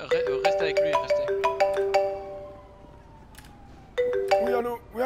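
A phone ringtone plays a bright, chiming melody in quick repeated phrases. It pauses briefly, then starts again, fairly loud and close.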